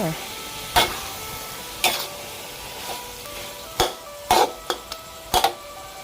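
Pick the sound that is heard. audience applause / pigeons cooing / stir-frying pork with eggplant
stir-frying pork with eggplant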